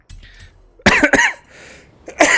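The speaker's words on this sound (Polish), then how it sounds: "no męczy mnie ten kaszel" A man gives a few sharp, close coughs in quick bursts, with a quieter throat-clearing rasp between them.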